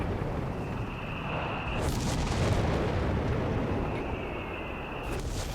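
Walking Stuka rocket artillery barrage in Company of Heroes 3, a dense rumbling roar of rockets landing with whooshes and sustained explosive noise, loud and continuous for several seconds.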